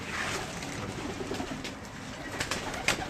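Soft, low cooing from breeder pigeons in a loft, quiet and steady over a faint background hum, with no speech.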